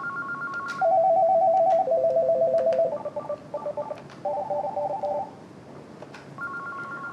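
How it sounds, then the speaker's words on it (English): An NEC SV9100 desk phone handset plays ringtone previews as a run of electronic tone patterns. Short beeping trills shift pitch from one pattern to the next, with a few key clicks between them, clear and close with no talking. "So if I was wanting to change the internal ringtone, I would dial 1 for internal."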